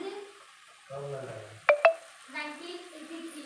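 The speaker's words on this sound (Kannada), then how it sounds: "ಇವಾಗ ನೋಡಿ ಪನ್ನೀರ್ ಹಾಕ್ತಾಯಿದ್ದೀನಿ" Paneer being added to frying masala and vegetables in a pan, giving a faint sizzle and stir with two quick sharp clinks, beneath a voice talking.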